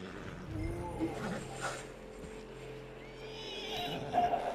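A horse in the video game Red Dead Redemption 2 lets out a loud neigh and whinny up close, followed by softer snorts and the clip-clop of hooves over a low background hum.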